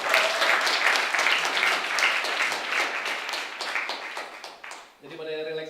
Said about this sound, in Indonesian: Tepuk tangan dong buat semuanya yang udah datang.